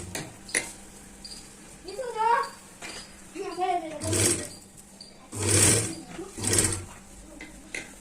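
A sewing machine stitching a blouse runs in three short whirring bursts near the end, close and fairly loud, after a stretch where someone speaks.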